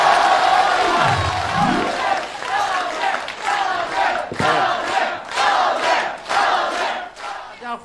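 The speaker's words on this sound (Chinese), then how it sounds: "这些欢呼啊，实际上在请赵老师再重现一下他演的这个舞台上为什么这么活灵活现的把盲人演得那么像" An audience at a Benshan comedy stage show cheers and shouts in loud, surging waves, with bursts rising and falling throughout and voices mixed into the roar.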